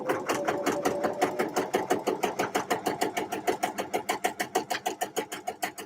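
A sewing machine runs top stitching with contrast thread on a knit project, a fast, even mechanical chatter of rapid stitch pulses sustained throughout, loud and close with no talk.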